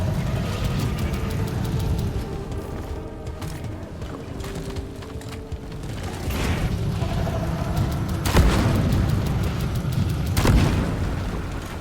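Player's weapon fire against bugs swarming out of a tunnel in a bunkering video game: a steady, loud stream of rapid shots layered over rumbling booms and dense battle noise, with sharper bursts near the end.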